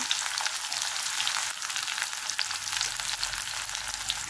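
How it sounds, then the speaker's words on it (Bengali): Steady, dense sizzling of potatoes and pointed gourd frying in hot oil, continuous and fairly close, with no voices. "আর আলু আর কাঁকরোলটা ভাজা হয়ে গেছে, হালকা করেই ভাজবো।"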